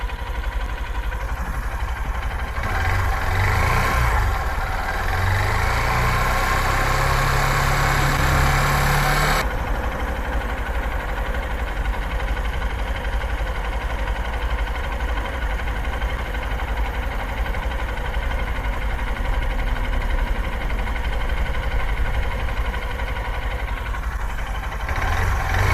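A motorcycle engine runs close by in a low, steady drone while warming up, with a brief higher rev near the start before settling into a constant idle that continues to the end.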